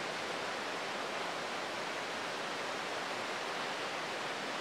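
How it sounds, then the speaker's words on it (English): Steady broadband rush of a waterfall flowing nearby in Wales, loud and constant for the whole stretch with no voices over it. "You haven't even seen the waterfall, which is,"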